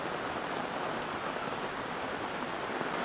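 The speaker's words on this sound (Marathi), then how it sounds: "हे बघा, खूप पाऊस आहे." Heavy monsoon rain pours steadily during a morning Ganesh immersion outing, a dense, even hiss with no breaks, loud and close, with no voices.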